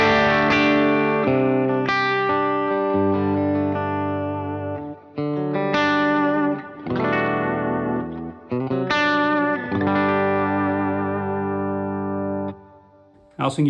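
Electric guitar played through a Strymon BigSky plate reverb, several strummed chords and sustained notes with long smooth washes of reverb, loud and close with no talking.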